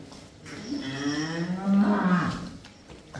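A pregnant buffalo on a farm gives one long, loud moo that rises and swells before trailing off, close by and alone with no talking.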